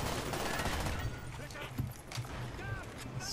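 An Uzi submachine gun fires in Call of Duty: Black Ops, dense rapid bursts up close in the first second, then scattered shots and game effects as someone talks over the action.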